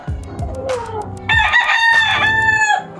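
A Lemon Sweater bloodline rooster, the father bird, clucks a few times up close and then lets out one loud, full crow that rings out for over a second before cutting off.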